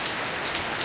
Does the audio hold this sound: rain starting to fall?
yes